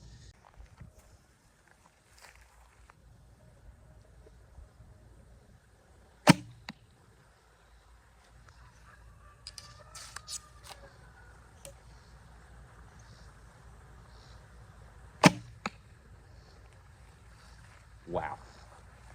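A traditional bow fitted with a new string shoots arrows: three sharp, quiet thumps of release and impact, widely spaced against a low outdoor background.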